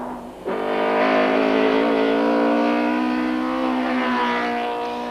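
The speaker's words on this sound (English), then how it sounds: "Unluckily, engine problems retired Glenn and Martin's Ford on the very next stage" A Ford rally car on a gravel special stage starts close and loud, then its engine revs hard and holds a strong, steady high-revving drone for several seconds before easing slightly.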